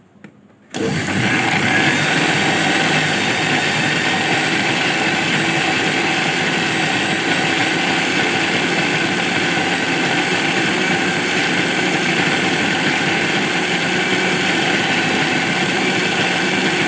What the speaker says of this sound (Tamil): இதை நல்லா ஒரு 2-3 டைம் நல்லா ஸ்பீடாக வச்சுட்டு அரைச்சி விட்டுக்கலாம்.